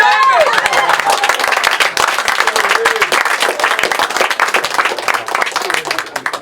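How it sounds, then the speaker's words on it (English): Audience applause fills a magic show at an intimate theatre, dense steady clapping from many hands close by that carries through the whole stretch with slight murmuring underneath. "I love the applause."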